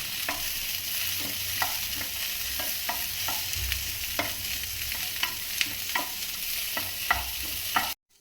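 Garlic and ginger fry in a pan with a steady bright sizzle, punctuated by regular scraping clicks of a spatula stirring, close and continuous until it stops abruptly at the end.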